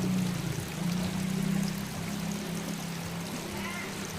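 Rushing flood water flows steadily with a broad, continuous roar, loud and close, with no break or change throughout.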